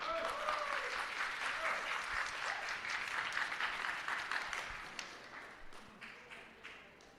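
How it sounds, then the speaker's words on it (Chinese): Church congregation clapping to welcome a Sunday school choir at a Mother's Day thanksgiving service, a steady wash of applause from many hands that holds for several seconds, then slowly thins and fades. "我们拍手来欢迎他们"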